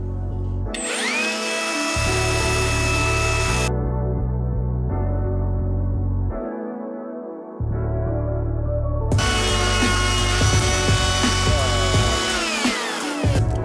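A hardened steel gear shaft for a homemade six-speed electric dirt bike is sanded with sandpaper while it spins, a steady machine hum under harsh, hissing abrasive scraping that comes and goes in long, loud stretches.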